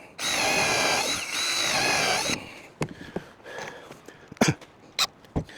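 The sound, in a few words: power drill driving countersunk screws into saw horse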